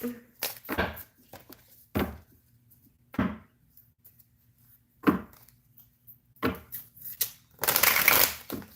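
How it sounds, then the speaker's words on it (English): Tarot cards shuffled in several short riffling bursts with quiet pauses between them, close and fairly soft, ending in a longer, louder riffle. "Just gotta shuffle my cards and clear out my energy."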